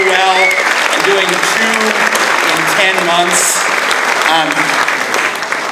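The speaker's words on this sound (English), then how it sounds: "can we give a round of applause to the Chamber staff for organizing this so well" A banquet audience at a community awards dinner applauds the Chamber staff, a dense, loud, sustained wash of clapping with voices and cheers mixed through it throughout.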